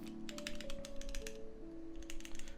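Keys clack on a stock Keychron Q1 mechanical keyboard in two quick bursts of rapid, crisp presses separated by a short pause, close and clear over a faint steady tonal hum, with no talking.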